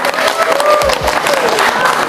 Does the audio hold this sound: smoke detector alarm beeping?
no